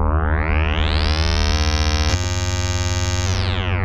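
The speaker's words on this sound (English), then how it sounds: "Cross-modulation to here, as cleanest as to get with a sine wave." A steady synthesizer drone from sine wave cross-modulation, with a rich, buzzy harmonic tone that shifts and brightens partway through, changing timbre as the modulation sweeps, loud and continuous.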